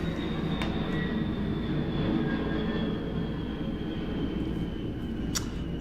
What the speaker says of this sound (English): Let that plane pass.